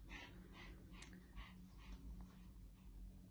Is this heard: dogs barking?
yes